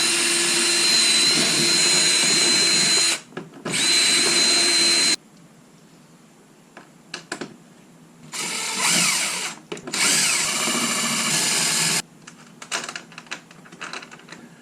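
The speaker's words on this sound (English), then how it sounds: "so let's drill out the rest of these" A power drill whirs in several loud bursts into a plastic kayak, starting and stopping, with short quieter pauses and small clicks and handling noises between runs.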